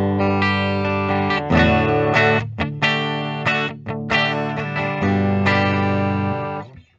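A 2021 Adam Jones 1979 V2 Les Paul Custom in Antique Silver plays ringing, distorted chords through a Deluxe Reverb amp, with sustained strums broken by short choppy stabs and a lush effected tail, heard alone and up close.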